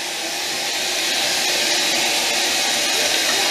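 A washing machine runs a pre-wash of white clothes, giving a steady, loud broadband whir and rush with no pauses and no talking.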